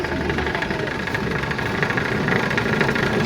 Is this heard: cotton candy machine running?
yes